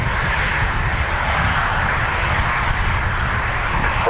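An airplane engine roars continuously at Dublin Airport, a loud, broad rumble holding steady without any voices.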